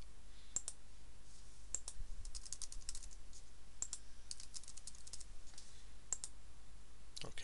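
A password typed on a computer keyboard, scattered bursts of crisp key clicks, some single taps and some quick runs, close and clear against a quiet room hum, no talk.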